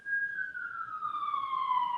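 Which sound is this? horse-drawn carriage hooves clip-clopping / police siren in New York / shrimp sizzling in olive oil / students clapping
police siren in New York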